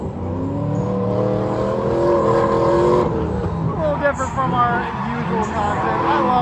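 Camaro and Corvette engines roaring at a drag strip event, a loud sustained rumble with revving throughout, mixed with crowd babble and voices in the background.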